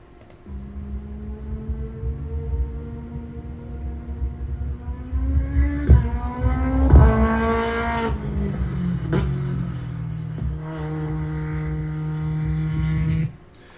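A Lotus Elise race car's loud engine idles and revs up and down through a loud exhaust, its pitch rising and falling in sustained surges, close by and rough-sounding.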